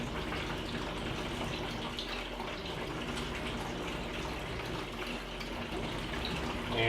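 C41 colour film developer is poured into a developing tank in a continuous, steady stream of liquid that gushes and splashes evenly for several seconds and swells slightly at the end.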